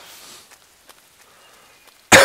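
A person coughs once, loud and close, in a short harsh burst at the very end after near-silence.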